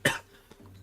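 A single short, sharp cough bursts out close and clear, followed by faint rustle and quiet.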